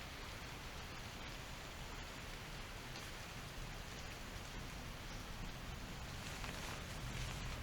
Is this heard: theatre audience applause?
no